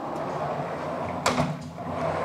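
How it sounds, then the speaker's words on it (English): A sliding barn door in a hotel bathroom at Disney's Contemporary Resort gives a short, soft rolling rattle against a quiet room hum. "You got yourself a barn door that doesn't lock here"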